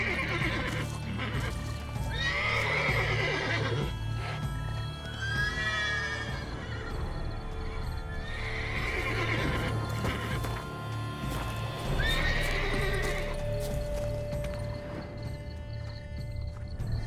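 Horse in The Witcher 3: Blood and Wine neighs and whinnies several times in close, loud bursts over a steady clip-clop of hooves and a low ambient game hum.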